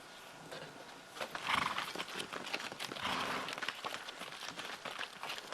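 A horse clip-clops along a mountain trail in the Uinta Mountains near Kings Peak, hooves striking in an uneven run of nearby steps with a few louder scuffs, nobody speaking.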